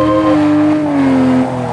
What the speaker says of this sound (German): Der neue Porsche ist ne? Porsche mit Klappe offen, ne?